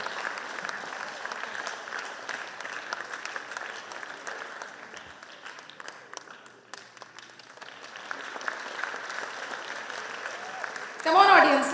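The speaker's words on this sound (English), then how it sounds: "Keep clapping." Audience clapping at a school annual day event, a dense steady patter of hands spread over the whole stretch, swelling louder near the end, with some voices mixed in under it.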